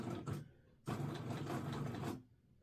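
A sewing machine stitching a tote bag pieced from small squares, a short whirring burst then a longer steady run of rapid mechanical stitching, close and quiet, no talking.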